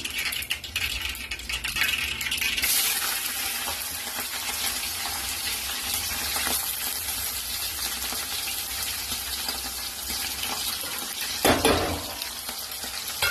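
Onions and green chillies frying in a pan for Telangana-style tomato charu, a steady close sizzle with occasional stirring and clinks of a spoon against the pot, no voices.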